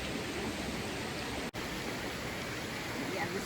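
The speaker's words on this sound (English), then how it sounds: "Sitting right in front of the creek, so you get to hear the beautiful creek sound." Mountain creek at Rapidan Camp in Shenandoah National Park, a steady broadband rush of flowing water heard close up, continuous and even with one brief dropout midway.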